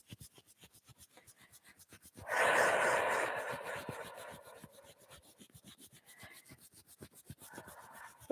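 Hands rub briskly over the body where the arm joins the torso during a self-massage along the central meridian. A close, loud, dry friction swell starts partway in, then eases into softer continued rubbing.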